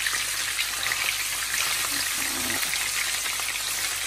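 Food sizzles in a frying pan during home cooking, giving a continuous, close crackling hiss that holds at an even level, with faint voice sounds in the background.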